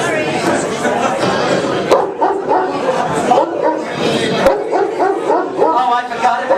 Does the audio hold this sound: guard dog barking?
yes